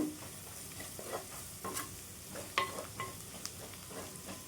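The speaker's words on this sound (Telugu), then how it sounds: "చూడండి మసాలా కూడా మనకి వేగింది ఆనియన్స్లో." Masala with onions fries quietly in a pan for an egg omelette curry, a faint sizzle broken by a series of soft spoon scrapes and taps as it is stirred.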